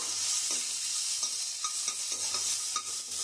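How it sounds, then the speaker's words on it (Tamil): Garlic, ginger and coriander are sautéed in a kadai, giving a bright, continuous sizzle with repeated scraping strokes of a spoon at a steady pace, close and fairly loud, with no voices. "இந்த கடாயிலே போட்டு பூண்டு, இஞ்சி, பூண்டு, கொத்தமல்லி சும்மா ஒரு வதக்கினா போதும்."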